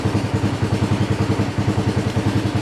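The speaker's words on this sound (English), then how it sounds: "That's the fan running." Diesel engine of an ACE 570 tractor idling hot with its cooling fan running, a steady close-up throbbing rumble with even rhythmic pulses and no voices.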